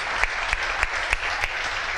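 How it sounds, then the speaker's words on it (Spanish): A church congregation gives an offering of applause to the Lord, a steady crowd clap with rhythmic accented beats about every third of a second, moderately loud and without speech. "dele un aplauso al Señor"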